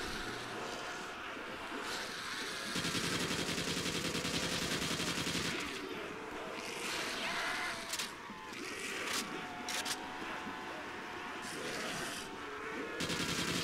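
Rapid bursts of AK-74U fire in a zombies video game, loud, close and repeated over a steady buzzing game backdrop.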